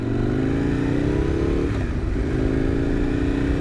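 A motorcycle engine revs hard and steadily, its pitch climbing and dipping as the throttle is worked, loud and close throughout with no voices; the bike is either a KTM Duke or an Aprilia RSV Mille.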